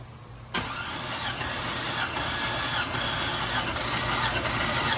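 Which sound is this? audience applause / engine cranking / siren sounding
engine cranking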